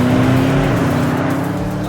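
A 2021 Porsche Panamera Turbo S drives on a racetrack, its engine a steady loud drone with a shifting pitch, close and continuous, with speech likely mixed in.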